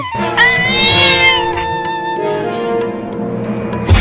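A cartoon mother cat gives a long, drawn-out, high-pitched meow up close, rising then sliding down, followed by a lower trailing cry.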